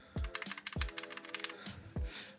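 Typing on a mechanical keyboard fitted with Cherry Brown switches, a quick run of close, crisp key clacks with a few heavier strokes, alone in a quiet room.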